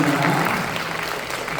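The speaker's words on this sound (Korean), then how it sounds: "연사분께 다시 한번 큰 박수 보내주시고." A short burst of audience applause at a university lecture hall after a guest actor's talk, a dense wash of clapping that stays fairly steady before trailing slightly.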